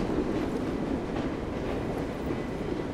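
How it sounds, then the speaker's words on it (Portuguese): A moving train in the game Assassin's Creed Syndicate, rumbling steadily and loudly from start to finish with a dense, continuous rolling roar and faint rhythmic clatter, with no voices. "o trem levou a gente e foi embora"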